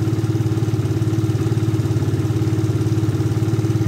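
A Suzuki Satria FU 150 motorcycle engine idles while warming up, a steady close pulsing thrum with even rhythmic firing throughout.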